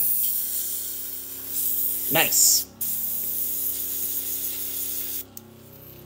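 Airbrush blasting out a few drops of airbrush cleaner, a steady loud hissing spray lasting several seconds with a brief sputter, ending abruptly; a short spoken remark and faint background noise around it.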